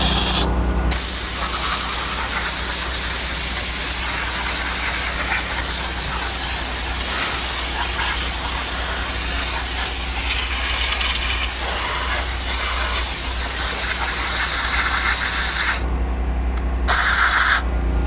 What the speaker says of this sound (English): We're gonna steam it.